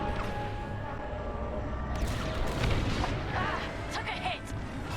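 A starfighter in Star Wars: Squadrons takes a hit with a sharp crash and crackling, buzzing impact that rolls over a constant engine hum, with muffled radio chatter and beeps behind it.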